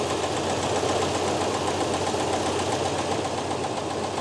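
A 1976 Chevrolet C10 pickup engine runs after a cold start following a coolant flush, a steady close idle with a faint knocking, sewing-machine-like rhythmic clatter that continues unchanged with no talk.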